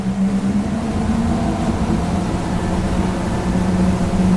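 A Hydrolift X-32S boat accelerates on a river, its engine a steady, loud low drone with a rising tonal hum underneath and constant water and wind rush.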